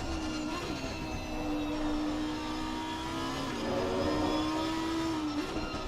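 A race car in Assetto Corsa Competizione, a Trofeo Sprint Cup race at the Nurburgring GP circuit, brakes hard. A steady, loud engine drone shifts pitch as it slows, with no voices over it.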